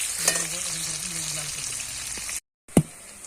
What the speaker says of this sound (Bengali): পেঁয়াজটা হচ্ছে ভালো করে তেলের মধ্যে এইভাবে ফ্রাই করে নিতেছি